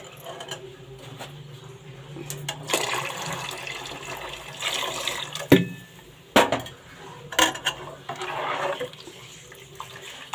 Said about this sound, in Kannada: ನೀರು ಸ್ವಲ್ಪ ಹಾಕಬೇಕು